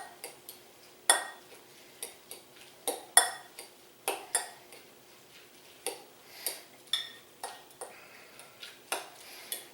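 Chicken tender filling with coleslaw is mixed with mayonnaise, a utensil clicking and tapping against a bowl in irregular sharp knocks, some louder and some softer, with no talking.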